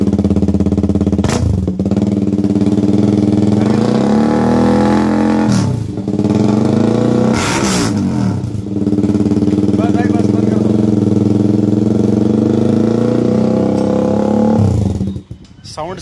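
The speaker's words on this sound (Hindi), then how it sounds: "अब सुनाते हैं आपको एग्जॉस्ट का साउंड" A KTM Duke 200 fitted with an SC Project exhaust, running close up inside a shop, idles with a deep steady drone broken by three or four sharp revs, with occasional talk over it.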